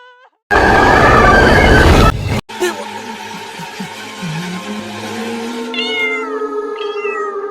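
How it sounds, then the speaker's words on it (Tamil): A brief burst of loud noise cuts off, then a cat meows several times, wavering cries over a low rumbling background. "பூனை சவுண்ட்லாம் கேக்குது."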